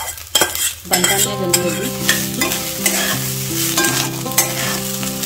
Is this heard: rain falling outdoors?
no